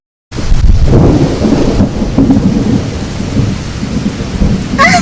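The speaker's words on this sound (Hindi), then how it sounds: "अचानक से बहुत तेज बारिश होने लग जाती है और बिजली के कड़कने की वजह से" Heavy rain pours down with rolling thunder, starting abruptly after a brief silence and holding as a loud, close, dense roar with deep rumbles through the clip, unaccompanied by voices.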